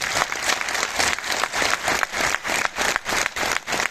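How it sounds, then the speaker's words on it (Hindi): A seminar audience in Surat claps heartily on cue, a fairly close, dense burst of many hands with a slightly pulsing rhythm that carries on evenly for several seconds with no talk over it. "देखिए, एक बार जोरदार ताली।"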